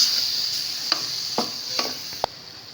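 Chicken cooking in a pan with spices makes a steady high sizzle, broken by a few short scraping stirs and a final clack of a spoon against the pan.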